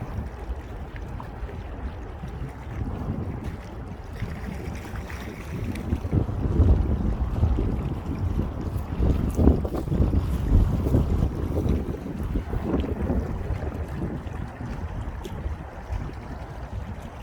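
Wind and choppy waves wash against the bank of the Han River at Banpo Hangang Park. Gusts buffet the microphone in a dense, low rumble that swells in the middle, and nobody speaks.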